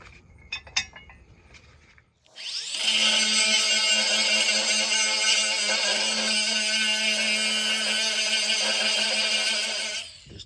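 A 4.5-inch angle grinder cuts metal on a log trailer while replacing a winch: a few light metallic clinks, then the grinder spins up into a loud, steady high-pitched scream for about eight seconds before winding down.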